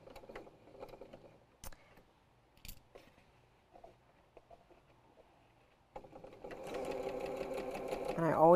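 After quiet handling noises and a few sharp clicks, a nearby sewing machine starts up and runs steadily through the final seconds, stitching quilt seams.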